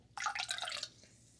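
A short, fizzy splash of 7-Up pours for under a second, bright and bubbly, then fades to a faint hiss; quiet and close.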